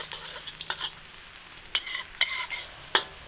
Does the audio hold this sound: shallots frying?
yes